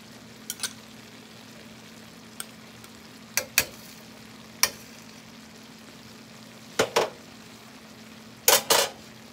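A spoon stirs a creamy flour and butter paste into a pan mixture for a keto cottage pie, giving sparse, sharp clicks and scrapes against the pan over a faint low background.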